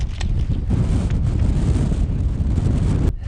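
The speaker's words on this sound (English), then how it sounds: "The wind is crazy." Strong gusting wind roars across the exposed summit of Ben Nevis, a loud, constant buffeting rush against the microphone that cuts off abruptly at the end.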